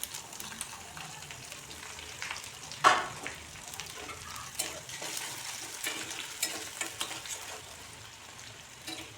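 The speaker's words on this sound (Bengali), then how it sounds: "তারপর আমি এতে এই পেঁয়াজ কুচিগুলো দিয়ে দিচ্ছি" Chopped onions and green chilli paste frying in a pan, a continuous close sizzle with occasional stirring clatter and one sharper knock early on.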